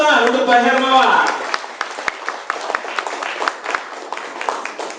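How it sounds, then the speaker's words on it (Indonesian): A voice trails off over the first second, then an audience at an evening FGXPRESS product presentation in Jakarta breaks into scattered, moderate applause that continues as individual claps. "Oke, kita tepuk tangan untuk Pak Hermawan."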